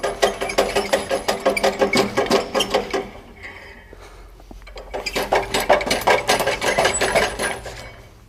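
A Genie AWP vertical personnel lift runs with a steady, rhythmic mechanical clatter, pauses briefly midway, then resumes at a similar level.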